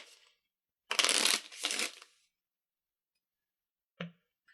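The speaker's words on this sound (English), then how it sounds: "we're going to shuffle them together with the rest of our deck" Two quick riffle shuffles of a deck of cards, close and crisp, followed by a short tap of the cards squared together; no talking.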